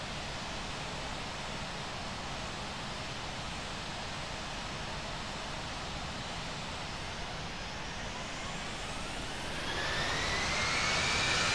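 Steady airplane engine hum during taxiing in Infinite Flight, a flight simulator, in Australia: a constant broadband roar that swells slightly with a rising whine near the end, with no voices.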